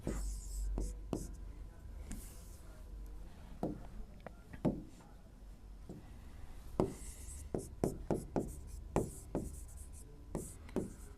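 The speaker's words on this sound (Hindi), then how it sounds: "जैसे इसमें मैं यहां पे छोटा सा एक प्रश्न लिखता हूं" Chalk or marker writing a short maths question on a classroom board, heard as a run of small taps and scratchy strokes in bursts, fairly quiet and close, with a low background hum.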